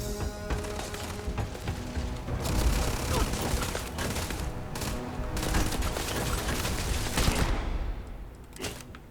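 Rapid gunfire fills a combat scene in the video game Starfield, with dense bursts and shots running continuously throughout, loud and close, while a voice speaks faintly underneath.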